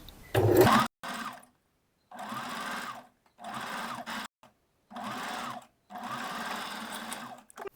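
A sewing machine stitches a seam on a framed bust piece, running in five steady bursts separated by short pauses, close and clear with no talking.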